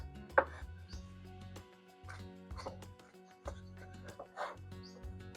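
A knife slides along hake fish skin to take it off, making short, quiet scraping strokes with soft taps on a board, spaced out irregularly.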